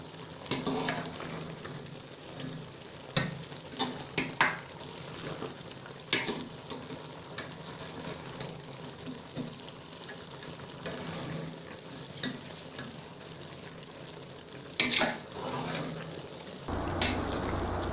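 A spoon stirs crushed coconut through thick, bubbling raw mango murabba syrup in a pot, with soft sizzling and scattered clinks and scrapes against the pan at a fairly quiet level.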